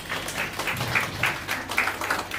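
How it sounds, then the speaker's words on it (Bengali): A small audience gives a short round of applause at a blessing ceremony, steady overlapping handclaps at moderate loudness with no talking. "তার জন্য আমরা সকলে একটা ছোট হাততালি দিতে পারিনি"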